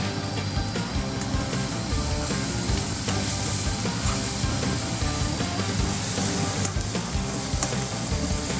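Tomatoes tossed into a hot pan on a gas stove sizzle loudly and continuously up close, with scraping stirring noises and small clatters running through the steady fry.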